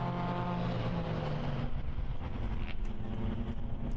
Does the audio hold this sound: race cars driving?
yes